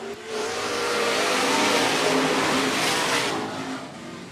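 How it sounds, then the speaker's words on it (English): Street stock race cars roar past at 105 Speedway, a dense, loud wash of several engines at full throttle swelling to a peak and then easing as the pack moves on, with no talk over it. "Here we go one more time. Street stock racing."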